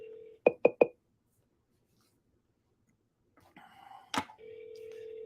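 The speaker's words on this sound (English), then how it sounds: "can you guys hear the phone ringing?" An office phone rings with three quick electronic chirps, followed by a pause, a brief clatter and a steady tone, all fairly quiet with no talk over it.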